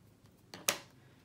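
A single crisp snip of scissors cutting through a ribbon tail, quiet and close, preceded by a softer scrape of the blades.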